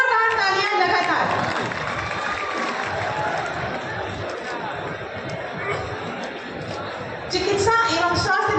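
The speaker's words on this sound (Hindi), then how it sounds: "आप सभी की जोरदार तालियां लगातार।" Applause from a large crowd at a public event with a chief minister, a continuous wash of clapping and murmuring voices that swells again near the end.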